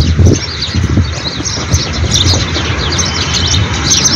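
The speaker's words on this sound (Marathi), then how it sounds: "चिमण्यांचा कलकलाट" Sparrows chirp and twitter in a dense forest near the Panshet dam, a busy overlapping chatter that runs steadily throughout under a low wind rumble.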